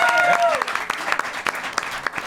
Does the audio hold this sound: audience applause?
yes